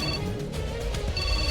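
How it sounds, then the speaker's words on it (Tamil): A telephone rings in a home with a steady electronic trill that sounds at the start and returns near the end, with a low background hum beneath it. "பொண்ணு வீட்ல இருந்து தான் ஃபோன் பண்றாங்க."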